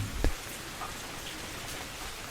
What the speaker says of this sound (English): Listen to that gentle rain sound.